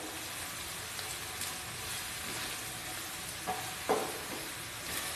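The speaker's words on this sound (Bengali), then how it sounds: "পেঁয়াজ আমি 1 মিনিট মতো নাড়িয়ে নিয়েছি" Finely chopped medium onion sizzles steadily in hot oil while a spoon stirs it, with a constant close frying hiss and a few sharper scrapes and clinks of the utensil.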